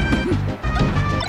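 A down smash attack lands in a Super Smash Bros. match between Falco and Peach, a sharp, loud smashing impact over busy game audio and music.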